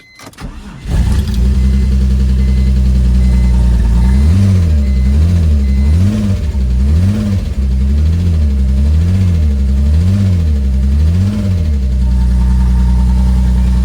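A BMW E46 car's turbocharged S52 engine cranks and catches, then runs loud and close, idling with a slightly wavering, pulsing rhythm and no voices.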